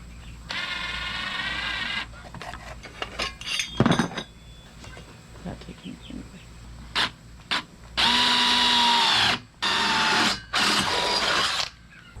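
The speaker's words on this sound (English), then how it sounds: "And then we're just drilling a hole." A power drill bores a hole in a wooden leg in a farm workshop, whirring in several sustained bursts separated by clicks, knocks and handling noises.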